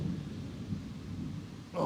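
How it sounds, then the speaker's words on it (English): Thunder rumbles outside during a rainstorm, a low continuous rolling roar with rain noise behind it, steady and moderately loud with no voices, swelling again at the very end. "You can hear that thunder going off out there."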